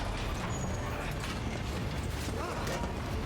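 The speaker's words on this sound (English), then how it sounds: "Just disconnect the train car." A train car is uncoupled in Resident Evil 2: a mechanical clanking and creaking of coupling gear, a short run of ratcheting metallic clatter over steady background noise.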